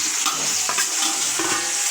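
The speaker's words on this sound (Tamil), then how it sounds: "நாங்கள் வெட்டிய கருணக்கிழங்கை இதற்குள் போட்டு பொரிப்போம்." Pieces of cut elephant foot yam fry in hot oil, a close, steady sizzle broken by a few short stirring scrapes.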